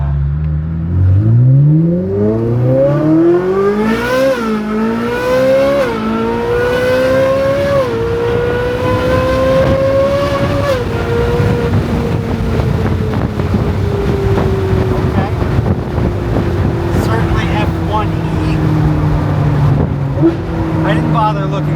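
A truck fitted with a new Valvetronic Ferrari exhaust revs hard and runs up through the gears, engine pitch climbing and dropping loudly and close over wind noise while people talk.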